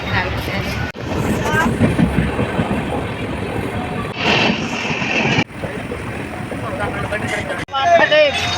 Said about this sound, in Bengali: আমরা ট্রেনে উঠে গেছি আর ট্রেনে যাচ্ছি